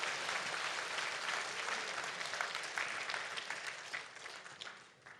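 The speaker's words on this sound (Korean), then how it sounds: "큰 박수로 함께 해주시길 바랍니다" Steady, sustained applause from a large audience at a Korean resident self-governance convention ceremony, dense clapping that holds evenly for several seconds before starting to thin out.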